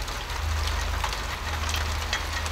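Rain sound effect in a Korean horror audio drama, a dense steady patter of falling drops over a low continuous rumble, even and close with no voices.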